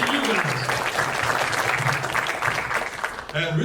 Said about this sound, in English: A big round of applause for Creative Studios.